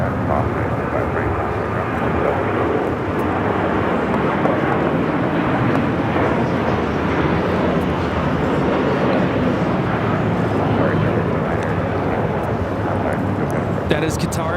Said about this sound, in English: That is Qatar Airways 740 taking off to Doha on the A350 1000